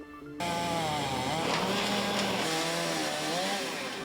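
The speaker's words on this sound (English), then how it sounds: "sounds of heavy machinery fill the air as crews from the town of Hempstead work to clean up tornado damage" A loud chainsaw-like engine revs and drones up close, pitch rising and falling as heavy machinery steadily clears tornado damage in Levittown, Long Island.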